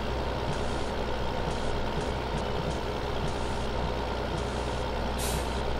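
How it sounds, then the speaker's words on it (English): Truck air suspension in Farming Simulator 15 gives a steady, dense hiss alongside engine rumble, with faint intermittent beeps and a brief brighter burst of air near the end. "You can actually hear the air suspension."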